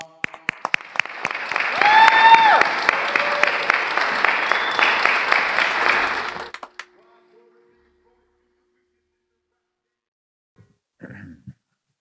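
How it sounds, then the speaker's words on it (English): An audience at an urban arts festival claps loudly and steadily as a poet is brought onto the stage. The applause fades out after about six seconds into near silence, with a few faint sounds afterward. "Clap it up for him, y'all."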